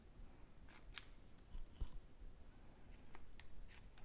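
Scissors trim a narrow ribbon for a soft craft bow, giving a few crisp, close snips spread over a few seconds with quiet pauses between and no talk.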